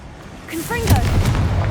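A Confringo blasting spell explodes in the wizarding video game Hogwarts Legacy, a deep booming blast that rolls on and rumbles low, with a voice calling out just before it.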